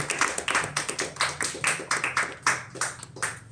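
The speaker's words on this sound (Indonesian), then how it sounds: "Tepuk tangan." An audience at a women's discussion forum claps in about a dozen distinct, evenly spaced bursts, a modest scattered applause rather than a roaring ovation, with no talk over it.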